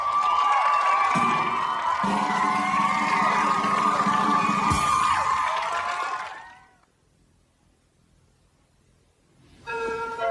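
Circus crowd cheering and whooping for a strongman act, loud and dense for about six seconds before cutting out, with brief music returning near the end.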